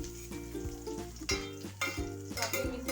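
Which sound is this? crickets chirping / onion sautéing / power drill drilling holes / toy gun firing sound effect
onion sautéing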